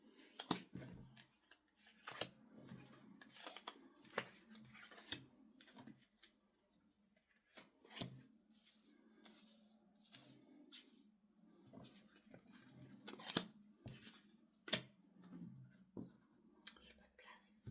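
Tarot cards are shuffled and laid out in quiet, irregular clicks and flicks, with sharp snaps as cards land, under soft whispered speech.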